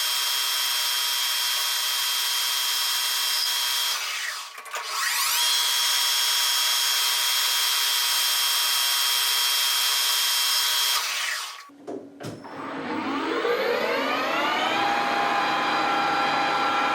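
Metal lathe touching up the outer front leading edge of a part held on a steady rest, a loud continuous machining whine with a brief dip midway, then the machine spinning down with a falling tone near the end.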